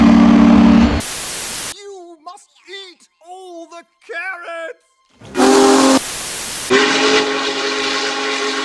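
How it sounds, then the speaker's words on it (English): Steam whistle of the Union Pacific 4014 locomotive, sounding loud bursts that alternate with stretches of talk in between, the whistle returning at the end as a sustained blast. "Steam engines have whistles that sound like this."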